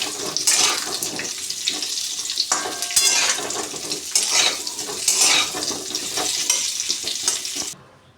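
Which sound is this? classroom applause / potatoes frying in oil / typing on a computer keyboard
potatoes frying in oil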